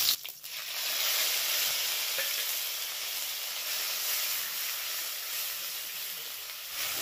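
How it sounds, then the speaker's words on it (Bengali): Whole cardamom and cinnamon fry in hot oil in a pan with a paste of onion, ginger, garlic and green chili, giving a loud, steady, close sizzle and hiss that continues throughout. "এবার এটা একটু ভেজে নেব।"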